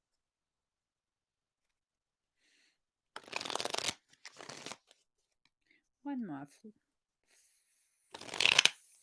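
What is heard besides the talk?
shuffling cards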